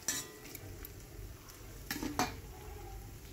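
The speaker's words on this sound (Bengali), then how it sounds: "ভালো করে লাল করে আমি ভেজে নিচ্ছি" Leafy greens frying in a pan, a soft steady sizzle with scraping and clinking of a utensil stirring against the metal, close and fairly quiet throughout.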